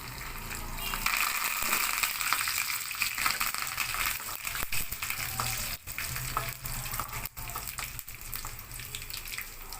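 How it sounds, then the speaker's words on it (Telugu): Curry leaves dropped into hot oil while making gongura roti pachadi give a steady, close frying sizzle with crackling and spatter running throughout, with a few brief dips. "ఇప్పుడు కరివేపాకు వేస్తున్నానండి దీంట్లో"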